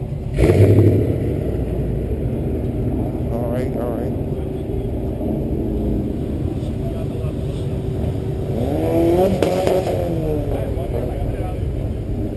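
A car with a single exhaust idles with a low rumble, then revs up briefly near the end, with people talking over it throughout, at a car meet.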